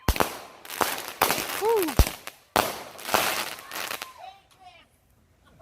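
A Gratitude 9-shot firework cake fires in a backyard at a July 4th celebration: a string of sharp, loud bursts at uneven intervals with whistling tails, fading to crackle at the end, and a voice cheering between shots.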